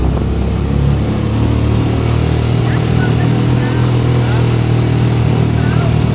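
Steady engine drone of many motorcycles moving along a road in El Nido, Palawan, loud and continuous near the listener, with people talking over it.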